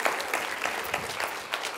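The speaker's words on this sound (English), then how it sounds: "Can we please give these fine gentlemen a round of applause?" An audience at a science lecture on colour gives a brief round of applause, close, dense clapping with a few louder individual claps standing out.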